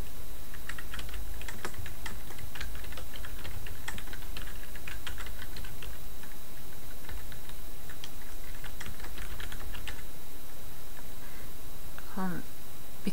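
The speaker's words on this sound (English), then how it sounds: "begin typing your title in all uppercase letters" Steady clicking of keys on a computer keyboard as a title is typed in uppercase in a word processor, dense irregular taps running for most of the stretch, close and moderately loud, with a short tonal sweep near the end.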